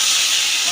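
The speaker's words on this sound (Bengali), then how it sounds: "সাদা জিরে ফোড়ন দিলাম।" Cumin seeds spluttering in hot oil in a kadai, a loud close continuous hiss and sizzle lasting under a second.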